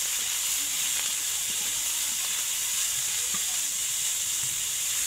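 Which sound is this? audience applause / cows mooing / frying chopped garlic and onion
frying chopped garlic and onion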